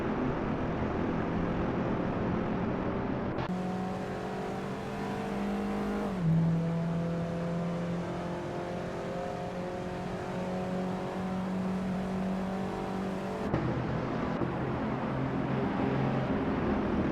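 Group 1 race cars accelerate around the Autodromo Lago Maggiore GP reverse track in a racing video game, with several steady engine tones rising and shifting together at a loud, sustained level and no talking.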